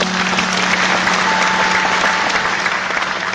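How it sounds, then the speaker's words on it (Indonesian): Audience applause at a seminar-style talk fills the whole stretch, a dense, loud, continuous clapping from a large crowd with no other sound standing out. "tepuk tangan."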